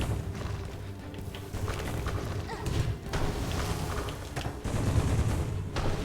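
Crackling, popping bursts from a firework bug in the video game Hollow Knight: Silksong, with dense rapid pops and thuds over a busy game soundscape for about six seconds.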